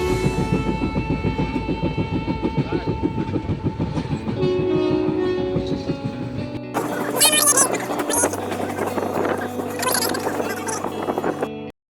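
Train running on tracks on a trip around Mumbai: a steady loud rumble with rhythmic clickety-clack wheel clatter throughout, faint voices mixed in.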